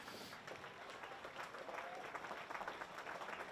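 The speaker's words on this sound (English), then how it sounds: "How about a big round of applause?" Crowd applause after a mile race at the 2020 Burnie New Year's Eve Mile, a faint, steady patter of clapping from a distant outdoor audience.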